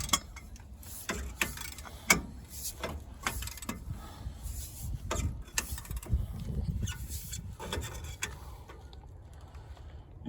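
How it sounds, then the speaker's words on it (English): Metallic clicks and clunks from a breaker bar with a 3-foot cheater pipe working loose an 18mm rear brake bolt on a 2007 Chevrolet 2500HD, a scattered irregular series of sharp knocks and ratcheting sounds close by. "What it takes is a 3-foot cheater pipe on the"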